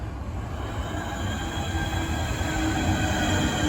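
Class 465 Networker electric train pulling into Grove Park station, a steady close rumble of wheels and motors with faint squeal, continuous and without voices.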